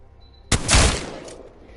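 A single Mastiff shotgun blast in a video game bursts in sharply after a half-second of quiet, then booms and rolls off over about a second, loud and close with no talk.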